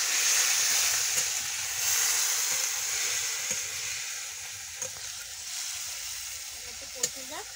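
Cauliflower stems sizzle in a pan with mustard paste and a splash of water for a village-style chorchori, a loud continuous hiss with a few light stirring knocks near the end, no voices.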